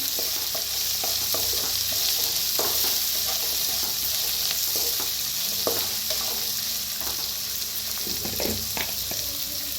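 Peas and salt roast in a hot pan with a steady, close-up sizzle, broken by scattered scraping stirs and soft clinks from a utensil, with no voice over it.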